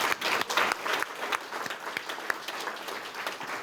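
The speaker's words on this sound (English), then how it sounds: "I want to give them all a round of applause" An audience at a healthy seniors pilot project announcement gives a round of applause, moderately loud steady clapping from a room full of people.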